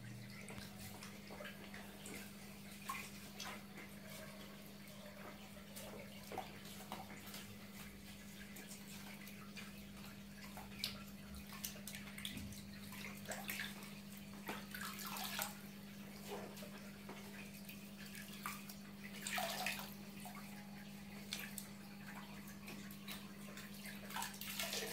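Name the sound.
rinsing Fluval 406 aquarium filter sponges in water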